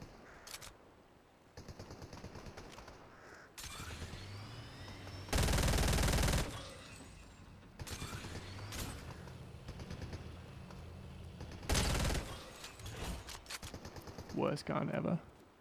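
Gunfire in the Fortnite video game, heard as several bursts of rapid shots, with loud stretches around the middle and near the end, mixed with game effects and a talking voice.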